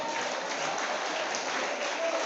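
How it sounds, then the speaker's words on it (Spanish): A congregation at a church service gives a strong ovation, a dense and continuous wash of applause that holds steady throughout. "¿Alguien puede dar una fuerte ovación al Señor?"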